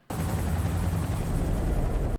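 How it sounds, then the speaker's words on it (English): A helicopter sound effect plays as a dense, steady, roaring rumble with broadband whooshing, starting abruptly and cutting off after about two seconds. "That's a helicopter."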